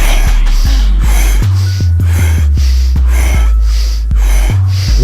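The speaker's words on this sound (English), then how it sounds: "Sync your body movements with the breathing." Rhythmic deep breathing exercise: loud, close breaths drawn in and pushed out in quick succession, about ten in a few seconds, over a low steady hum.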